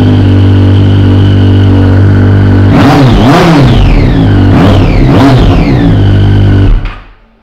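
A 2007 Triumph Street Triple 675 fitted with dual Leo Vince exhausts idles loudly up close. Three sharp throttle blips rise and fall over the steady idle before the engine shuts off.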